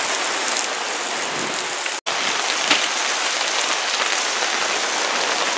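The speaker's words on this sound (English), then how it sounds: "Well, it's still raining." Steady rain falls at a mountain campsite in the Rockies, a dense, even hiss of drops on surfaces with a brief drop-out partway through and no voices.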